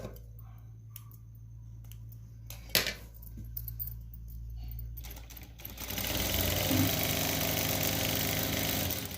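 A sewing machine starts up after a few quiet clicks and handling noises, then runs in a continuous fast whirring stitch for a one-inch seam, close and steady.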